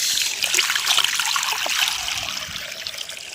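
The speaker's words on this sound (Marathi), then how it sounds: "आता हे पाणी निघेल इकडनं" Rainwater drains out of a pipe in a steady, close trickle and splatter, continuous throughout.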